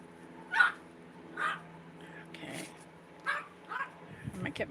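A dog left outside barks and whimpers in short separated bursts, several calls spaced across the stretch, moderately close and fairly loud over a quiet background.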